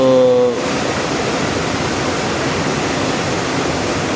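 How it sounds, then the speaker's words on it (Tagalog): Steady rushing water flows continuously inside a tunnel, a dense broadband wash that fills the space, with a brief tonal sound at the very start. "kung may tubig lumalabas, ayun, lumalabas sa tubig"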